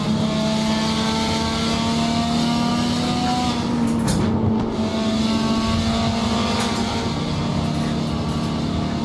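A Mazda Capella with a rotary engine drones loud and close, its buzzy pitch climbing steadily, easing briefly, then holding a steady rev.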